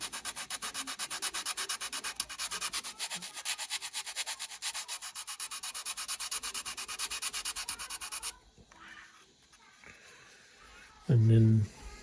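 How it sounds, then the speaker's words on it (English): Sanding of a plastic part for a 1/48 Airfix scale model: a steady, fine scratchy rubbing that runs close and continuous for several seconds, then stops, followed by quiet handling and a brief louder knock near the end. "A little bit of sanding."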